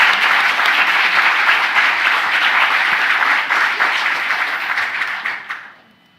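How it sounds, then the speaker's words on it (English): An audience applauds at the awards ceremony of a typography competition, dense sustained clapping from a large crowd, loud and steady, then tapering off and fading out in the final second. "So give me a hand. Let's welcome Carol Wahler and congratulate her"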